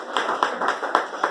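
An audience at a speech meeting claps in a brisk run of hand claps, five or six distinct strikes in quick rhythm, close and fairly loud with no talking.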